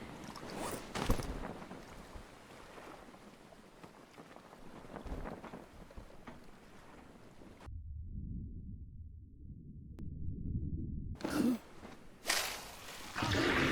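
A boat sails across the water in the video game Stranded Deep, giving a low rumbling wash of wind and water that cuts to a quieter muffled stretch before surging back up.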